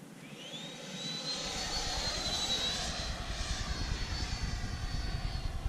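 A Freewing F-22 Raptor RC jet model flies overhead with a rising, whining electric ducted-fan roar that swells and holds steady as it passes, fairly distant and alone.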